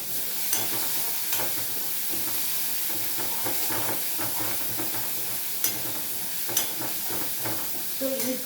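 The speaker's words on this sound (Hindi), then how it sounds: "तो इसको हम जलाएंगे नहीं, सिर्फ फ्राई करेंगे।" Garlic leaves frying in a pan give a steady, close sizzle with hissing steam throughout, broken by a few scraping stirs.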